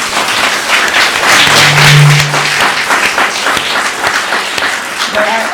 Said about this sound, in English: maybe a round of applause first